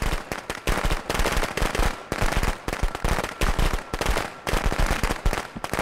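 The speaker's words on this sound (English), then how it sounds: "I'm scared of them dang fireworks." Fireworks in the video game Friday the 13th: The Game crackle and pop in rapid, dense bursts, loud and close, rising and falling in waves with no talking.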